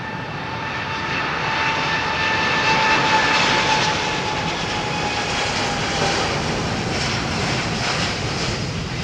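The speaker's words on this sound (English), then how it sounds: "The Dreamliner." A Boeing Dreamliner on runway 27R at London Heathrow gives a loud, continuous jet engine roar that swells and holds steady, heard from a distance with no voices.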